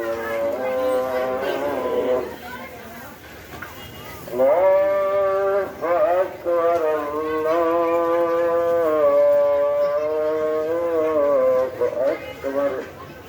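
Cattle at a busy cow market moo loudly and repeatedly, long drawn-out calls with harmonic tones, close by and overlapping, with crowd noise behind.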